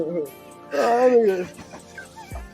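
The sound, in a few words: dog whimpering near the podcast host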